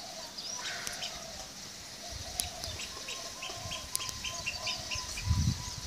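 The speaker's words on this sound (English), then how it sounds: "That's the Nene. And the Hawaiian state bird way down there." Honking goose-like calls from a Nene, the Hawaiian goose, in a rainforest zoo enclosure in Hawaii, repeated and fairly distant over steady outdoor ambience, with other birds chirping faintly nearby.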